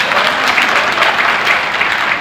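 Steady, dense audience applause for a film producer at a Chhattisgarhi film's 100th-day celebration, many hands clapping loudly and evenly throughout with no voices over it.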